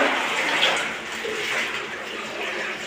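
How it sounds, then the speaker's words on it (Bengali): Clothes are washed by hand in water, with close, continuous splashing and sloshing that rises and falls in waves and has no speech over it. "আমার বরকে দিয়ে কাপড় ধোয়াচ্ছি"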